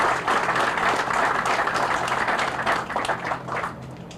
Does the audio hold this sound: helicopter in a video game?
no